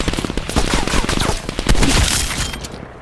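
Rapid automatic weapon fire rattles in dense bursts during a Call of Duty Black Ops Cold War co-op match, loud and close, with sharp impacts and a brief shattering crack near the end.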